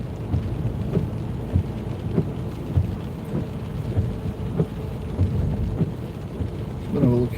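Steady rain and road noise fill the cabin while driving on the Mancunian Way in Manchester at night, a constant wash with periodic thumps throughout, loud and close with no clear speech.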